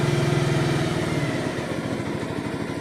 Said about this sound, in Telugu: ఇప్పుడు బండి అయితే మనకి స్టార్ట్ అయింది.